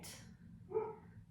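A dog outside barks once, a single muffled and distant woof heard faintly from indoors over a quiet room hum.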